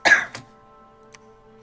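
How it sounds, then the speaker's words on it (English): Someone clears their throat sharply and coughs once close by, followed by a faint second cough over a quiet steady hum. "every time I hear you cough"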